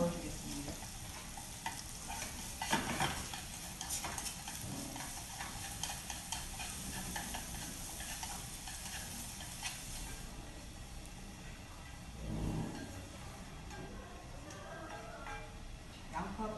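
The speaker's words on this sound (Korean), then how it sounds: "다음에 양파를 볶겠습니다." Julienned onion stir-fried with a pinch of salt for japchae, a soft steady sizzle with scraping stirs in the pan, heard up close and quiet, with a voice speaking over parts of it.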